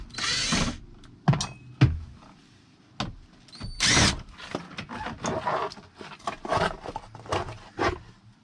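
Bolts on the dash bracket of a 2003 Dodge Ram are worked loose with a 7mm tool, giving a run of close, irregular clicks, ratchet ticks and rattles with short pauses between bursts.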